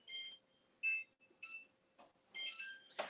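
Kitchen timer on a countertop oven being set to 15 minutes, giving a series of short high electronic beeps in separate bursts, fairly close and clear, with no talking.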